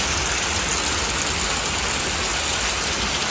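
Heavy rain and wind pour down steadily in a wooded area, a dense, unbroken rushing wash that stays loud and even throughout with no voices.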